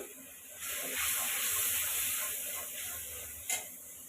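Ginger paste sautéing in a pan for a catfish and potato curry, giving a steady broadband sizzling hiss that swells for a few seconds with one brief scrape near the end, no talking.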